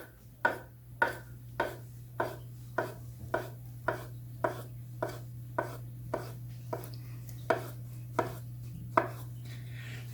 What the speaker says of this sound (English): you want to slice as thinly as you can each slice of avocado until you make your way all the way to the end